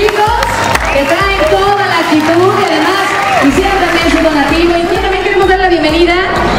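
Crowd applause and cheering at a costume-mascot race event, loud and continuous under a thumping music beat, with voices calling out over the clapping.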